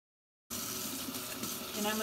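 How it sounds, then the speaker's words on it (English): Tap water runs steadily into a sink while hands are washed, a continuous broadband gush starting abruptly after half a second of silence and staying loud and even to the end. "I'm gonna wash my hands because I just touched all of that raw meat"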